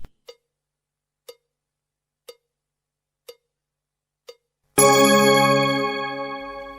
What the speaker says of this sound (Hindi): अब फिर घंटी बजेगी